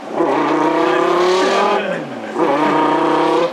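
A first-generation Lamborghini Gallardo engine revs hard in two long, loud bursts, pitch climbing through each pull and dropping off in a brief gap between, close and dominant like a dyno run.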